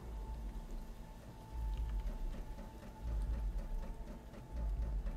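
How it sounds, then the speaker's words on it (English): Steady rain falling outside in the video game Carrion, a continuous patter with swelling low rumbles, moderately loud and alone with no talk. "It's raining outside."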